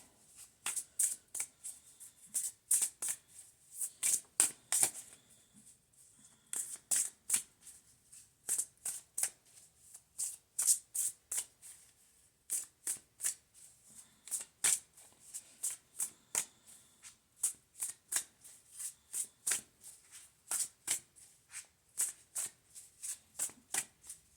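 A tarot deck is shuffled by hand in a long run of quick, crisp riffling bursts, close and steady in rhythm with brief pauses between, with no talking over it.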